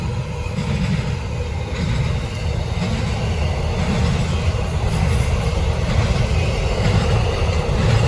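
A loud, steady rumble of a passing Norfolk Southern freight train on the Charlotte District, with continuous low roar and faint rattling of cars rolling by nearby.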